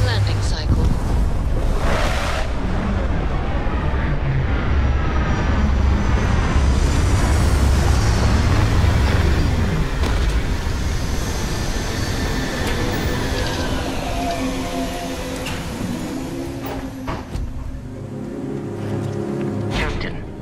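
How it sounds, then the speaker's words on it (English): Spaceship landing in the video game Starfield: a loud, sustained roar of rushing engine thrust and wind-like noise, steady throughout with shifting tonal whines and a slight drop in level near the end. "Beginning landing cycle."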